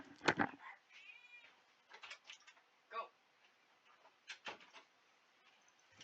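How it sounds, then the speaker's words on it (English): A cat meows near a door in a quiet room, a few short separate calls spread out with gaps between them, faint background rustles and clicks around them. "I gotta open the door for my cat."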